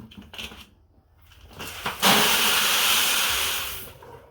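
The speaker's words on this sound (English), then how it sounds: "Stir it up in the pail." Sheep feed of grain mixed with beans being stirred in a pail, a soft scraping rustle that swells into a steady loud hiss of shifting grain for a couple of seconds before fading.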